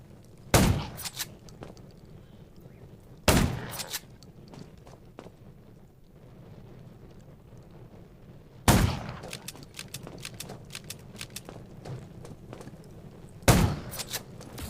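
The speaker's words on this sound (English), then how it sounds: "Gunshots will attract more." Video game gunfire from the zombie survival game Undawn, with four loud isolated shots spaced several seconds apart, each followed by a short burst of rattling debris over a low ambient rumble.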